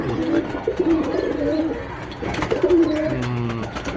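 Lambadi pigeons, including a female, coo in low, throaty bursts close by, several rolling calls in two clusters with soft background noise and no talk.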